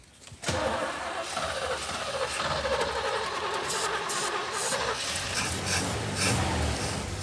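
A Jeep Wagoneer engine cranks and catches after a brief quiet moment, then settles into a steady, loud, close idle with a smooth, even rumble that continues to the end.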